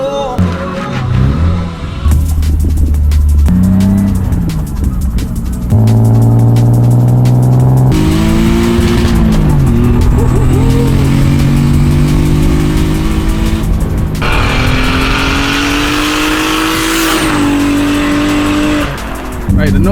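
A turbocharged BMW E36 with an M50B25T engine revs and accelerates hard through repeated gear pulls, loud rising engine tones broken by shifts, with tire squeal and brief voices early on.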